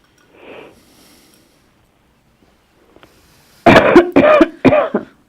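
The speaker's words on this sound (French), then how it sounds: "La fumée, il vous fait tousser." Someone irritated by incense smoke gives three close, harsh coughs in quick succession near the end, following a faint breathy sound and a stretch of quiet.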